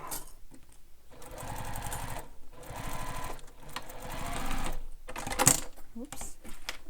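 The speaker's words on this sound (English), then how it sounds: "So sew this with the seam allowance" A sewing machine stitches a handheld bag seam in short, fairly quiet runs separated by brief pauses, close by, with a voice speaking over part of it.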